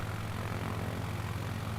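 Propeller plane engine in Microsoft Flight Simulator 2020, a steady, loud droning hum that holds an even pitch from start to finish with no talk over it.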